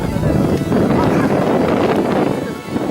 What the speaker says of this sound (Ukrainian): Коротше, тут вітер. Дивіться на дерево. Вітер дує.